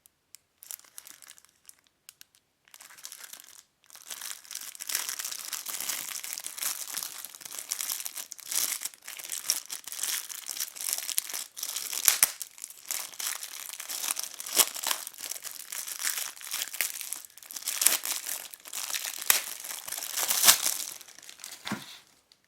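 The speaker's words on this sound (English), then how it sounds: "let's go ahead and remove the clear plastic wrapper" A clear plastic wrapper being pulled off an acrylic smartphone stand, with close, crisp crinkling and crackling that comes in irregular bursts after a brief quiet start and goes on steadily, with no speech.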